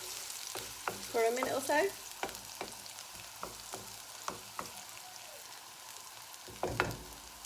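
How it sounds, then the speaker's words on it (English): Onions fry in a hot pan with a soft continuous sizzle and repeated scraping, tapping stirs, while someone briefly speaks over the cooking. "we're going to put the onions in and let that cook down"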